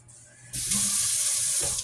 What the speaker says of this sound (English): And I'm pouring that in my measuring cup.